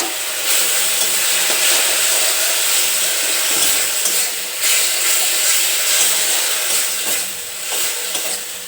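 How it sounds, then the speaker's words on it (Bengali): Spice paste for a Bengali banana flower dish fries and is stirred in a pan, giving a loud, steady sizzling hiss with scraping, no voices over it. "এখন মশলাটা কষিয়ে নেব ভালো করে, এই যে মশলাটা ভালো করে কষিয়ে নিচ্ছি"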